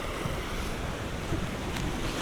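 The River Porter flows through a park in inner-city Sheffield, a steady broadband rush of water and wind that stays constant throughout, fairly loud and close, with no talking.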